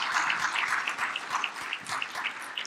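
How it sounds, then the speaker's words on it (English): An audience at a chamber energy event gives a brief, fairly faint round of applause for its panelists, a dense patter of clapping lasting a few seconds. "Round of applause for our panelists."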